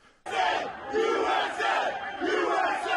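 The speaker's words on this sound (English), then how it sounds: "some in the crowd are heard chanting, "USA, USA."" A large crowd of attackers chants in rhythmic, repeated bursts, loud and close, with the roar rising and falling across several shouted cycles.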